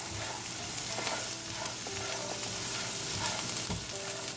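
Green mung dal mixture sizzling and frying in olive oil in a pan, steady hiss with soft scraping stir strokes now and then, close and continuous, no talk.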